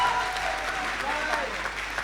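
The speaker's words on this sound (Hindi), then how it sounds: "ज़ोरदार तालियां बजाइए एक बार तनोज के लिए" Audience applause at a Hindi shayari recital for the poet Tanoj Dadhich, a steady dense wash of clapping filling the whole stretch at moderate level.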